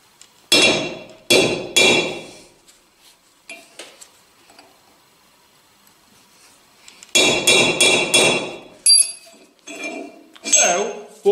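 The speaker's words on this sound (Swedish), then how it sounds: "Hittade en lite mindre hammare" A small hammer strikes repeatedly during work on a homemade budget rounding tool: two sharp blows, a pause with faint clinks, then a rapid cluster of close, loud metallic hits and a few scattered taps.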